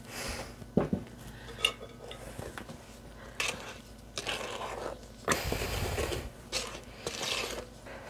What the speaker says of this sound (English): mix it in with half of the milk